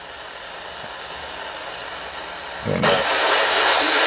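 AM shortwave reception at 9.655 through an online receiver: a steady broadband hiss of static with faint, indistinct signal underneath, jumping abruptly louder and brighter near the end as one word of speech starts.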